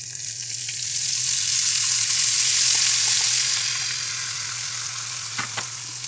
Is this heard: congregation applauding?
no